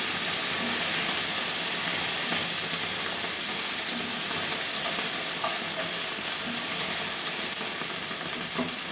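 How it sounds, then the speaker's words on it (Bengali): Potatoes frying in hot oil for a mushroom masala, with a steady, close, loud sizzle that hisses on without a break, with faint occasional stirring taps and no voices. "এবার আলুগুলো আমি ভাজতে থাকবো।"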